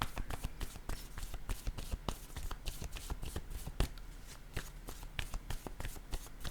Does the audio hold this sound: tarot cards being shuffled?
yes